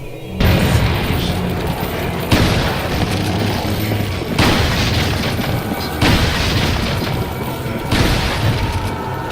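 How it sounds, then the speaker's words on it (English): Repeated booming blasts from flame grenades in the Resident Evil 4 video game, five heavy bursts about two seconds apart, each rolling into a loud, roaring fire-like wash. "We're going to use another flame grenade. It'll give us an impenetrable wall of flame."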